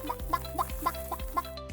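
Chickens in an animated children's story cluck in a steady series of about six short, clear bursts, close and fairly loud, with no other sound alongside.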